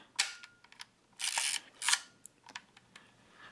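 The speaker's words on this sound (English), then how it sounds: "You can fire the shutter there." Fuji GS645 Wide60 medium format film camera handled up close, with quiet mechanical clicks and a couple of sharp shutter snaps plus small lever and body noises, faint overall.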